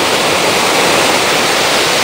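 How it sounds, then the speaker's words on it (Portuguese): Cachoeira do Bandeirante waterfall on the Araguari River, a loud, close, continuous rushing roar of falling water that stays steady and dense throughout, with no voices. "Cachoeira do Bandeirante"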